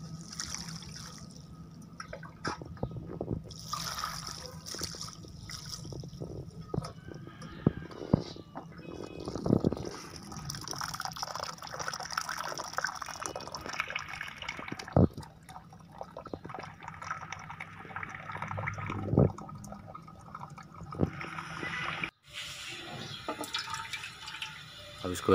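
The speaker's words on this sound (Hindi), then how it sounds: "और फिर सादा पानी भी इसके ऊपर गिरा दें इस तरह से।" Water pours and trickles over strained rice in a strainer, splashing and dripping on and off with occasional clatter, close by.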